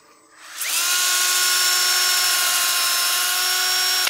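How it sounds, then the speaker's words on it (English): Power sander running steadily against a turned wooden succulent planter, a loud, continuous high whine that starts up abruptly and holds at an even pitch, heard alone and close. "When you're power sanding a piece like this as well, I wanna maintain movement across the surface"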